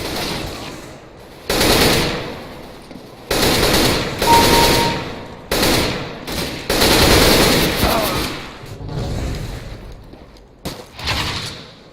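Loud bursts of automatic rifle fire in the game CS:GO, several rapid strings of shots lasting a second or so each, separated by short pauses, close and forceful.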